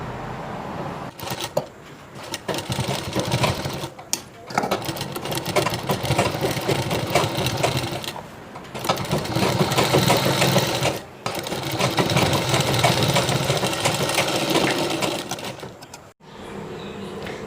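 Sewing machine stitching along the edge of a chudidhar collar neck, close and steady mechanical whirring in long runs separated by brief pauses, with no talking over it.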